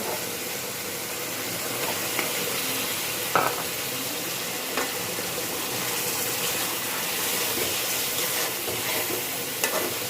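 A rohu fish head is stirred into a fried spice paste in a pan, producing a continuous close sizzle with occasional sharp clinks and scrapes of the spoon.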